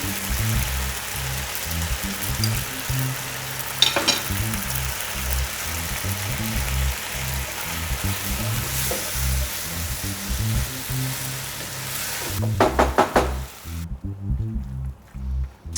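Capers, tomatoes and vegetables sizzle and crackle steadily in a saucepan, a continuous close frying hiss with occasional louder pops, fading out at the end.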